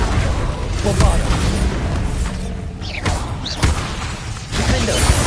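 In Hogwarts Legacy, Bombarda spells burst in loud, booming blasts amid whooshing spell effects and clanking combat noise, with several sharp hits over a dense, continuous battle din.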